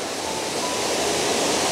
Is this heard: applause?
no